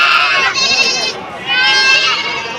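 Young goat kids at a livestock market bleat loudly and close by, two long wavering calls one after the other, with people talking in the background.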